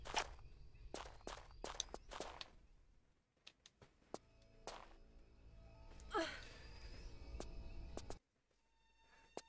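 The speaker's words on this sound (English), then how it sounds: "I hear footsteps." Footsteps in the Infada Cult video game: a sparse series of sharp, close taps and scuffs spread unevenly over several seconds, with quiet ambient noise between them and an abrupt cut near the end.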